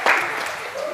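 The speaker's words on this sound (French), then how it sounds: "On peut applaudir, hein, oui." Brief burst of audience applause at a tournament event in Paris, a short dense wash of clapping that rises quickly and holds steady for about a second.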